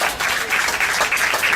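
Audience applause at a live event in Uruguay, a steady, dense burst of clapping filling the space for a moment, with no voices standing out.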